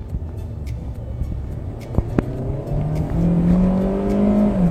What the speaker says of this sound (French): C'est un moteur Atmo, donc il faut monter dans les tours.